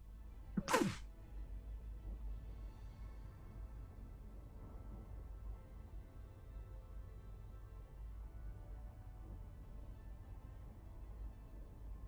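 A single sharp sneeze bursts out near the start, then only a low steady room hum continues.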